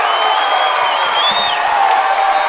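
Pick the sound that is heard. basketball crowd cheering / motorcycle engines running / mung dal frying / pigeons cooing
basketball crowd cheering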